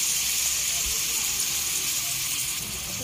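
Dried fish (tuyo) and rice sizzling in a pan, a steady close hiss of frying throughout with faint speech underneath.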